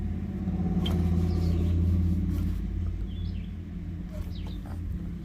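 A curbside Weed Eater push lawn mower engine runs with a steady low rumble close by, with faint birds chirping in the background.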